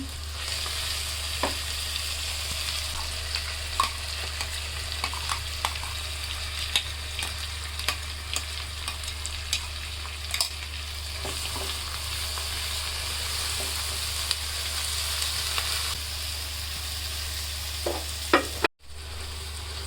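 Spice paste for chicken tehari sautéing in a pot, a steady low sizzle with occasional scrape and stir clicks throughout, close and alone with no talk over a faint low hum.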